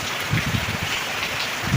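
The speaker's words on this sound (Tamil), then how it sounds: "மழையோட சத்தம் பயங்கரமாக இருக்குது" Heavy rain from Cyclone Fengal beats down steadily and close by, a dense continuous wash with a few louder splashes of drops hitting surfaces.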